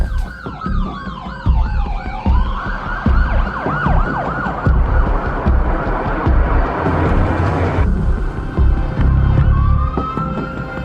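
Several police sirens wail loudly at once, their rising and falling tones overlapping over traffic noise, with a long steady tone near the end.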